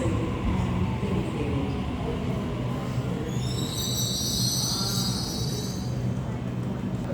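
A Sydney Waratah B-set passenger train, set B15, rumbles past close by, with a steady low roar and a stretch of high-pitched wheel squeal partway through.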